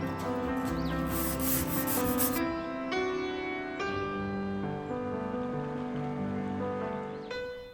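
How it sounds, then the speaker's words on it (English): A Surf Prep sander with foam pads works over an old painted wooden dresser, a steady close rubbing drone with a constant motor hum, unbroken for several seconds with no talk. "These foam sanding pads on the Surf Prep sander help sand the detailed areas without"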